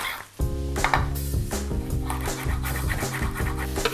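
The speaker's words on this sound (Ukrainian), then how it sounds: "Тепер додаємо перець і знову ж таки розмішуючи, е, смажимо, продовжуємо смажити." Sliced peppers sizzle and scrape in a pan, with a utensil stirring and clattering against the metal, steady and close, over a low tonal hum.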